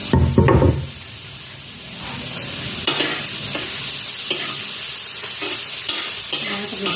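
Garlic and onion fry in a pan with a loud, continuous sizzle, opening with a clattering stir and followed by occasional scrapes of the utensil against the pan.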